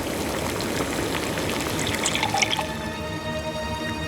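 Water being poured, dribbling and splashing steadily for a few seconds at close range, with faint higher clinks toward the end.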